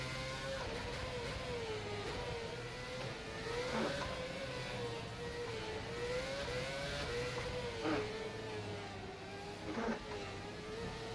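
A race car at speed in rFactor 2 on the FSR 2017 Singapore circuit, its engine droning steadily with brief rises and dips as it brakes and accelerates through the S-bends. The note is moderately loud and unbroken, with no voices.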